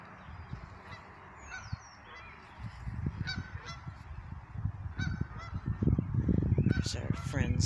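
Canada geese honk repeatedly in a park, the calls coming in bursts that grow louder and busier toward the end over a steady outdoor background.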